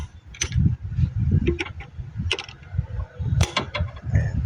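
A ratchet or wrench tightens an engine support bolt on a Honda CR-V, heard as close, uneven bursts of metallic clicking and clunking with short pauses between strokes.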